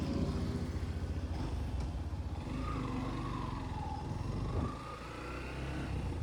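A 2025 Yamaha FZ-S V4 Hybrid motorcycle with a silent starter starts and rides off; its low engine hum rises and falls through a revving stretch midway, quiet and steady, with no voices.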